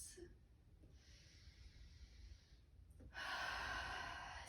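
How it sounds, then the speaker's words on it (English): A person breathes deeply during a yoga session, with a long hissing exhale and a strong inhale near the end, close and quiet with no speech. "deep breaths."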